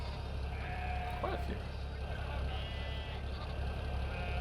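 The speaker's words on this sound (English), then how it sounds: "Oh, a few sheep in here today as well." Sheep bleat briefly on a farm in the game Farming Simulator 17, a few short calls over a steady low engine rumble while someone talks.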